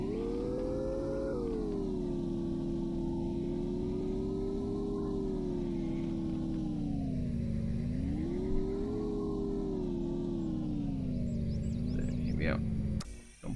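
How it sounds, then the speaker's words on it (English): A motorbike engine in the sci-fi survival game Empyrion Galactic Survival hums steadily and loud, rising and dipping in pitch as the rider speeds up and eases off, with no talking over it. "Actually, I think I will jump on the bike."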